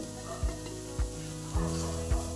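Half-fried onion with green peas and ground spices in a pan, a soft steady sizzle broken by four low knocking stirs of a spoon against the pan, no talk.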